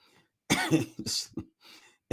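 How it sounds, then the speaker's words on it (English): A few sharp coughs in quick succession, close and fairly loud, followed by a fainter throat-clearing rasp. "Don't enjoy coughing."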